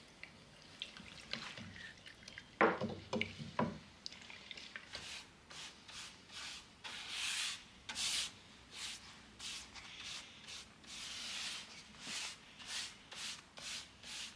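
A wooden Art Deco piece under restoration is scrubbed with Barkeeper's Friend oxalic acid cleanser: quiet, close, rhythmic rubbing strokes, first a short burst of scratchy scrubbing, then a steady run of back-and-forth swipes.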